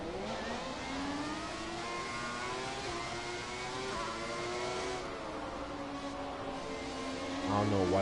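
Formula One cars in the F1 2017 racing game on PS4, several high-pitched engines screaming and sweeping up and down in pitch as they accelerate and shift, loud and continuous.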